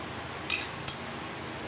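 Small iron and steel miniature kadai utensils clink together in two brief, light metallic taps close by, with quiet room tone between them.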